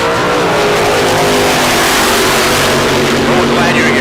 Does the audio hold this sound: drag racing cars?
yes